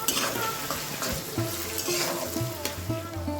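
Chopped capsicum frying with onions in a pan, giving a steady close sizzle broken by repeated stirring scrapes and light utensil knocks against the pan.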